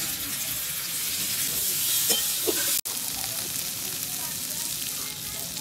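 Potatoes fry in a pan with salt and turmeric, giving off a steady, loud, close sizzle that runs unbroken except for one very brief dropout partway through.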